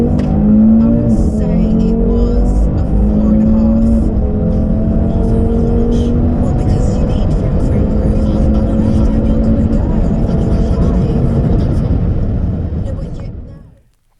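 A 2017 Audi RS3 8V fitted with an Eventuri intake accelerates on a test run. Its loud, dense engine rumble is sustained for about thirteen seconds, with tones slowly rising, then cuts off abruptly.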